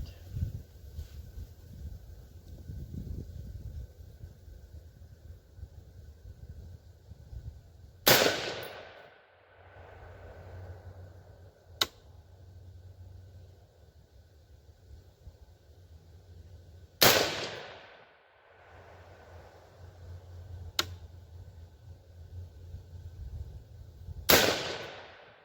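Three rifle shots from a Del-Ton 20-inch rifle kit at an outdoor range, each a sharp loud crack spaced several seconds apart with a short echoing tail, separated by quiet wind and faint mechanical clicks.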